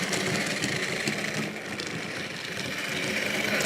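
Model railway locomotive running over cobbled track on an exhibition layout, a steady mechanical whirr and hum held evenly throughout at moderate level, with no voices.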